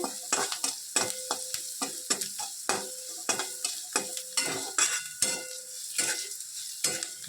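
Onions and curry leaves fry with red chili powder in a pan, giving a constant sizzle cut by rhythmic scraping strokes of a spatula heard up close.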